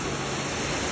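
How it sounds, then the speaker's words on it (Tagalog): Strong wind and rain storm hitting a camp, heard as a dense, loud, unbroken rush of broadband noise with no gaps or shifts. "Asahan ho natin ang paghangin na."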